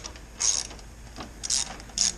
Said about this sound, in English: So I'm going to take my ratchet.